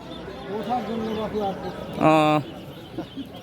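A chicken lets out a short, harsh squawk amid people talking nearby at a poultry market, with a few fainter clucks afterward.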